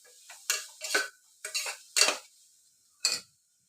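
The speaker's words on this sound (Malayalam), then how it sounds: "പൊടികളുടെ പച്ചമണം മാറുന്നത് വരെ നല്ലപോലെ ഇളക്കി കൊടുക്കണം" A spoon stirs garam masala powder in a pan for vegetable biryani, making about six short, close scraping strokes with metallic clinks in an uneven rhythm, separated by brief silences, with no talk.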